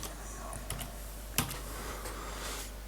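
Keys are tapped on a computer keyboard in a few scattered, quiet clicks, with one sharper keystroke in the middle.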